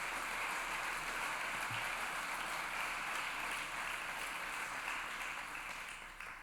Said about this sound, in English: Let's give a big round of applause to thank each of them.